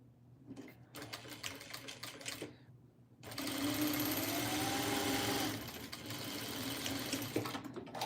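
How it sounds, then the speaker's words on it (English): A sewing machine stitches a quilt seam at a marked one-inch line, whirring in a short burst, pausing briefly, then running again in a longer steady stretch, close and fairly quiet. "Now I'm gonna sew this at that 1-inch mark that I have marked there on my machine again."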